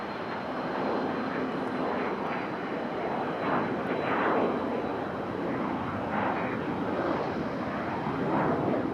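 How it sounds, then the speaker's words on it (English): An Airbus A220 climbs out after takeoff from Raleigh-Durham International, giving a loud continuous broadband jet roar that holds steady and close throughout, with no talk over it. "Can you hear that A220 headed up the hill there?"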